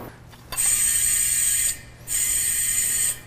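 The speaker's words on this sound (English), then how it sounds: "we're gonna pump it up a little more and get going" Two bursts of steady hissing air, each over a second long, separated by a brief pause, close and fairly loud — a pressure sprayer for concrete sealer being pumped up.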